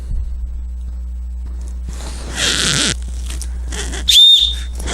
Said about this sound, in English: The ever-present whistle.